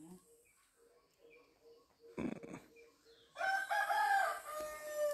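A hen clucks softly in short bursts, then a rooster lets out a loud, drawn-out crow close by near the end, over quiet farmyard background without talk.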